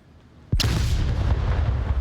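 A flashbang grenade detonates in a tactical shooter match, a sudden sharp blast at about half a second followed by a loud, sustained roaring wash of noise that lingers to the end.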